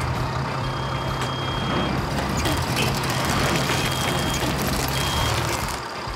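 A truck backs up with its reversing beeper sounding repeated high beeps over a steady engine rumble, fairly loud and continuous until the motor drops near the end.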